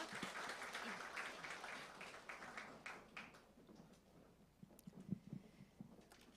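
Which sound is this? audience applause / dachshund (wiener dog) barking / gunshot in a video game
audience applause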